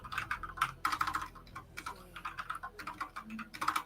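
Steady, busy typing on a computer keyboard, a dense run of close clicks and taps with brief pauses and uneven rhythm, moderately quiet, with no voices over it.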